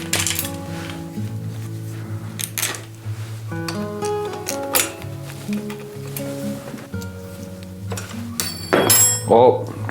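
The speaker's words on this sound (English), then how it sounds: "Oh, dropped my wrench." A wrench drops and clatters on a hard surface near the end, a sharp metallic burst ringing out amid workshop handling of parts on a 1993 Bridgestone XO-2 bicycle under restoration, with people talking throughout.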